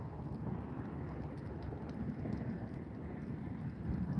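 Steady rain and low rumbling thunder from an approaching storm during crappie fishing, a dense continuous wash with no voices.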